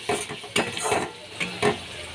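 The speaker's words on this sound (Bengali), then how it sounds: "1 চামচ জিরে গুঁড়ো দিয়ে ভালো করে আমি কষিয়ে নিচ্ছি।" Cumin powder fries in a pan for a potato curry, a soft sizzle with several clinking scrapes of a spoon stirring at close range.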